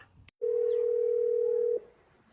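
A short rustle, then a steady telephone dial tone hums for over a second before cutting off, leaving quiet background.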